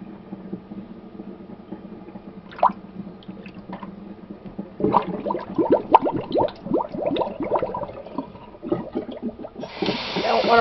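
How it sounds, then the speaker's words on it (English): Hot water drained off blanched tomatoes and cool water added in a home kitchen canning session: soft gurgles and drips at first, then busier splashing, sloshing and trickling at close range, ending with a rush of running tap water. "I'm going to drain the hot water out and put some more cool in."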